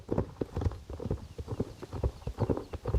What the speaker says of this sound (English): There's a group of wild horses right there